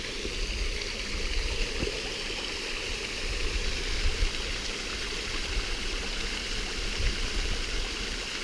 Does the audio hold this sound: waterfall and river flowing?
yes